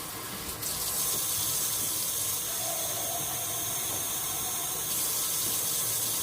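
Water or chicken broth pours steadily into a pot of taco soup, giving an even, continuous rush of liquid that starts about half a second in and runs on, loud and close, with no talking.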